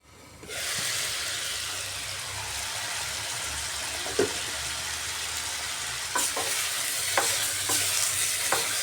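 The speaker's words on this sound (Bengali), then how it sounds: "ঢাকাটা উঠিয়ে আর একটু সময় কষিয়ে নিচ্ছি" Papaya, potato and rohu fish curry being sautéed in an uncovered pan, a hiss that swells in after a quiet start and holds steady, with a few sharp spatula scrapes and knocks toward the end, close and wordless.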